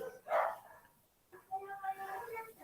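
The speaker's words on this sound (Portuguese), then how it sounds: "E esse cachorro latindo aí é o Bart, né?" A dog barks once sharply nearby, then yips and whimpers in a string of higher, wavering calls at moderate volume.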